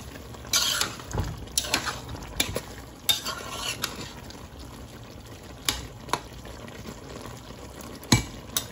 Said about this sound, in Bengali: এবার যেটা করছি, নেড়ে চেড়ে ভালো করে মিক্সড করে নিচ্ছি।